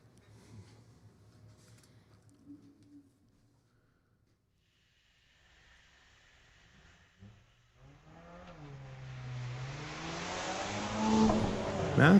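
Street-legal drag racing at Mission Raceway Park, where a 2012 Volvo and a 2017 Subaru WRX launch from near quiet. Their engines rev and climb, and the roar builds louder toward the end as they pull away.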